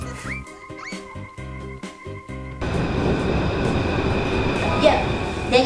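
A subway train ride: a few seconds of melodic tones give way to a loud, steady rush and rumble of the moving car, with a brief whistle-like squeal near the end.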